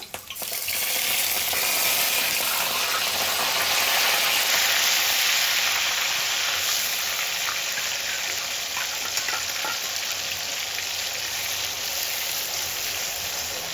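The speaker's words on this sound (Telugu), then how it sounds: "ఇదిగోండి ఆయిల్లో అది బాగా ఫ్రై అవ్వాలన్నమాట" Tomato, onion and cumin paste fries in hot oil, giving a loud, steady sizzle that holds for the whole stretch with light stirring scrapes and no talking.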